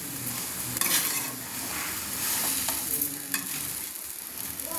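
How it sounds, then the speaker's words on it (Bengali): A sweet sugar filling for patishapta being stirred in a pan over a low gas flame, with soft sizzling and occasional scraping strokes of the spoon, close and steady. "এবার পুর করার জন্য এটাকে নামিয়ে গ্যাসটা কমিয়ে লো ফ্লেমে রেখে নাড়তে হচ্ছে"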